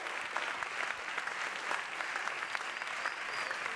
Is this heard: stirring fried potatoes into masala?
no